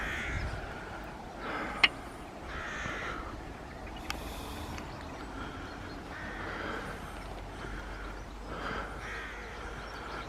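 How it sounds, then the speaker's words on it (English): Crows caw repeatedly on a morning at Washford station on the West Somerset Railway, their harsh calls coming in spaced bursts over a steady outdoor hush, with one sharp click partway through. "Birds are all enjoying themselves this morning."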